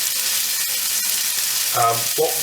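Onions fry in oil flavoured with mustard seeds and curry leaves for a Malabar Coast curry, giving a steady, close, loud sizzle and crackle throughout, with a brief tonal sound near the end.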